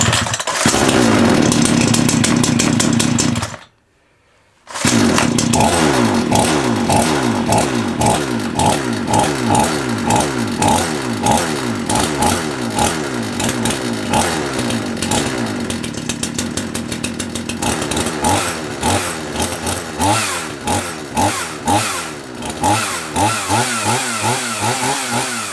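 A Handy chainsaw started without choke roars into loud running near the mic, cuts out briefly, then restarts and settles into a rough idle with rhythmic revving pulses.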